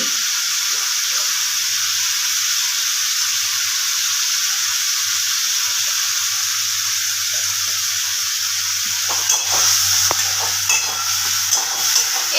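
Ghee and spices sizzle in a pan as an egg dish is cooked. A loud, continuous hiss runs throughout, and near the end a few stirring scrapes and knocks are added.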